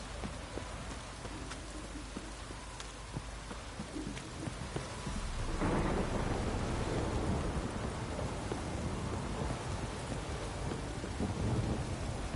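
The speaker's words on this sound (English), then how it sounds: "This downpour's a bastard, it is." Heavy rain in the video game The Witcher 3: Wild Hunt pours down steadily, swelling louder partway through, with rumbling thunder mixed into the dense hiss.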